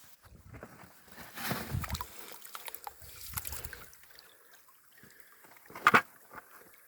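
Water runs through a gold prospecting sluice in Wisconsin, an irregular mix of trickling and sloshing that swells and fades, with one louder splash near the end.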